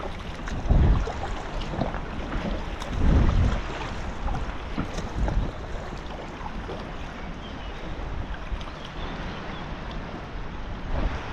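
Aare river flowing during a packrafting trip, a broad rushing wash of water with gusts of wind buffeting the microphone, fairly close and steady with louder bursts early on; no talk.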